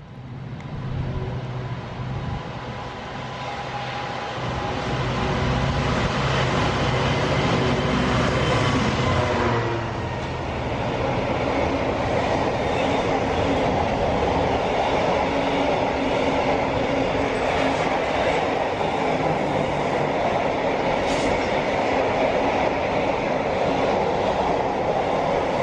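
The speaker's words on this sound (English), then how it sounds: "Here's the water train." A water train rolling past on a railway line, a sustained loud rumble and clatter of wagons that swells and holds steady for the whole stretch, close by, with no talk.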